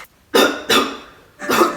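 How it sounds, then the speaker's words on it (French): Three distinct coughs from one person, close and fairly loud, coming in a quick uneven rhythm with short pauses between them and no talking. "pourquoi tu tousses?"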